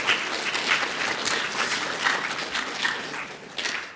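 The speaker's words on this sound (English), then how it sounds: "I would applaud again." An audience applauds after a student history presentation on World War I, a steady, moderately distant patter of many hands clapping for several seconds with no speech over it.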